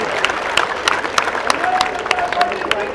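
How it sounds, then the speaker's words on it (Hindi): Lively clapping rises from a crowd at an outdoor political rally, sharp and fairly close, with overlapping voices and murmuring underneath throughout. "एक बार इनके लिए जोरदार तालियां दें।"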